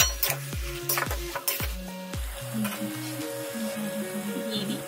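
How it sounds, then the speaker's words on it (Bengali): A masher mashes boiled potatoes into vegetables in a pot for a jackfruit-seed and amaranth-greens dish, making a run of sharp, regular knocks against the pot that fade into softer, busier scraping. Nobody speaks. "একটা ম্যাশার দিয়ে ভালো করে আলুগুলো ম্যাশ করে দিচ্ছি"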